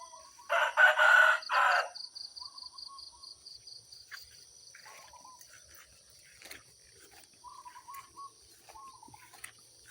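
A rooster crows once loudly and close at dawn in a rural Thai village, followed by softer clucks and scattered bird and insect calls in a quiet early-morning setting.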